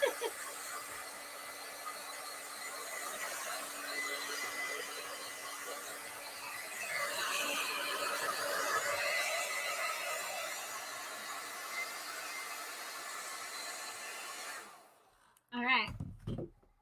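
A hair dryer blows in a continuous close hiss for about fifteen seconds, its tone shifting slightly as it moves, then cuts off and a voice speaks briefly.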